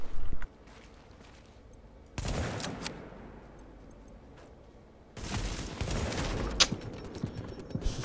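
Bursts of rapid gunfire from the video game The Division, loud broadband volleys separated by a quieter stretch, with sharp crack-like transients.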